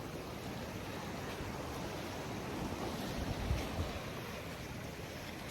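Steady broadband wash of surf rolling against the shore, with a slightly stronger surge midway; continuous and fairly close, with wind noise on the mic and no talk.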